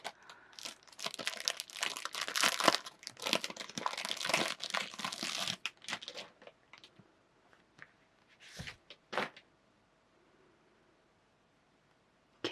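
Plastic sleeve on a Japanese manga volume crinkles and rustles up close in dense bursts for several seconds, then thins into scattered handling sounds, a few isolated crackles and quiet gaps.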